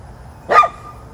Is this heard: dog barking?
yes